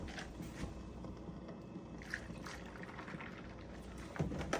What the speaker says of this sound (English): This is where you then get to pour in whatever milk of your choosing.